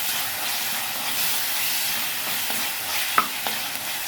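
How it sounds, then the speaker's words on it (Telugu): Potato, egg and tomato curry with ginger-garlic paste stirred in a hot pan, a steady loud sizzle and hiss with a few scraping spoon taps near the end, close up and without speech. "ఒకసారి కలుపుకుందాం ఫ్రెండ్స్"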